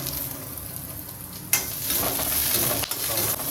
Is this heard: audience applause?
no